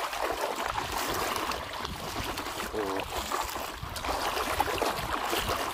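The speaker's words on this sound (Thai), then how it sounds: "ท่วมทุกแหล่งของที่ครับ ตัวน้ำไหลถนน" Floodwater runs along a residential street flooded knee-deep, a steady close rushing and gurgling flow that continues throughout, with a brief word spoken over it.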